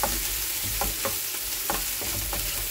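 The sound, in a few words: tempering garlic and green chili in hot oil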